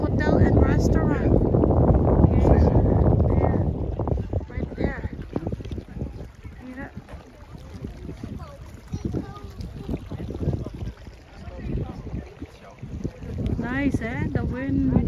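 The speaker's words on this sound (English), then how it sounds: "The wind breeze, so nice." Wind blows across the open ground at Strokkur geyser in Iceland, a loud, steady low rumble buffeting the microphone that is strongest at the start and end, with people talking over it throughout.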